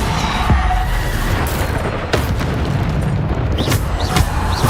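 A Depulso force spell cast in Hogwarts Legacy bursts out as a loud, booming blast amid dense, continuous game combat noise, with a couple of sharper whooshing accents layered over the steady roar.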